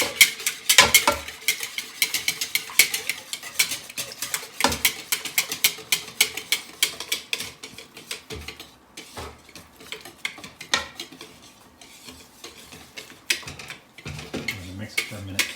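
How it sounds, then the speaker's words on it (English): Metal whisk rattling and scraping against a bowl while sifted flour is mixed into cinnamon roll batter, a busy stream of close clinks and scrapes in an uneven rhythm, loudest at the start and easing off later. "So can you whisk it?"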